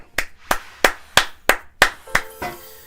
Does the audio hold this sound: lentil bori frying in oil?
no